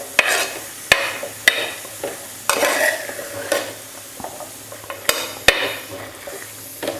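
Chopped chow chow sizzles in hot oil in a pan while a metal spoon stirs it, giving sharp scraping knocks at irregular intervals over a steady close-up frying hiss.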